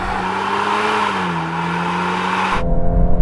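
Volkswagen Golf R hatchbacks launch side by side in a drag race, engines roaring loudly with rising and shifting tones as they accelerate, then the note cuts off abruptly near the end, leaving low rumble.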